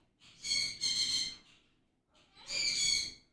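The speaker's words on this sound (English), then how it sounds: "Oh, those birds. Good grief." Birds call outside a home trading desk, giving two loud, close, harmonic calls separated by a short pause.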